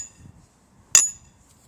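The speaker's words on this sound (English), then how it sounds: "You just hammer that into the ground." One sharp metallic strike rings out as a hammer drives a tent stake into the ground while a 10 by 10 foot tent is set up, preceded by quiet shuffling.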